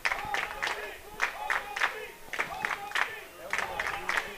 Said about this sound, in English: You hear the crowd telling them to hold the D.